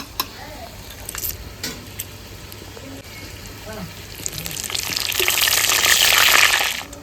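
Bay leaves dropped into hot oil in a pot while meat is cooked, faint clinks and light handling at first, then a rising crackling sizzle that grows loud near the end, with a voice speaking over part of it.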